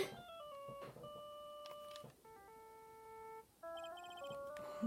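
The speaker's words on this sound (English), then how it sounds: "it was this ringtone that caused it." A melodic electronic phone ringtone from the video game Phoenix Wright: Ace Attorney Justice for All plays alone, a sequence of clear beeping tones in short repeating phrases, fairly quiet and near.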